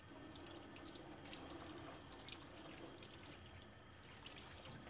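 Running water rinses a polycarbonate face shield under a tap, a steady, soft, continuous splashing wash with no talk.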